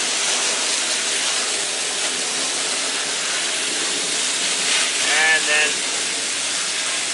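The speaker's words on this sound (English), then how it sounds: "when you rinse it up here on the side, it gives it the opportunity to run out the bottom" Water runs in a loud, steady rush over a Marineland aquarium filter being rinsed, close and constant, with brief splashy changes near the end and a voice speaking under the flow.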